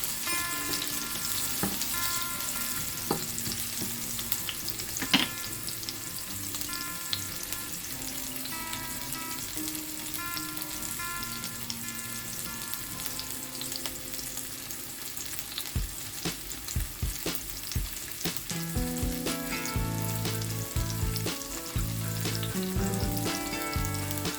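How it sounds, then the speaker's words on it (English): Bitter melon sautéing in a pan, a constant close sizzle and crackle with intermittent clatter of stirring, while faint music plays in the background. "A little stir. Need that to slightly saute a bit."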